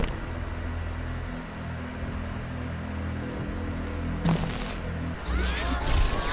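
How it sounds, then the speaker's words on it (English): Bursts of gunfire in the video game Saints Row IV, sharp shots and rattling volleys arriving near the end over a steady background hum, with no talk. "Começou o bang bang aqui, fera."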